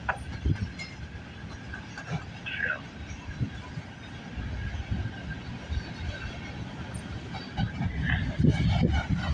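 A CN eastbound freight train passes at Bronte Street in Milton, Ontario, a continuous low rumble with scattered rail clicks and clatter that swells slightly toward the end.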